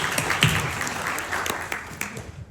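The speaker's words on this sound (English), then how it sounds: "So I just want to say also an extra applause for Zibby, who can't" An audience at a panel discussion at the Miami Book Fair 2024 applauds, a crowd of scattered claps with sharper individual hits that slowly thins out over a couple of seconds.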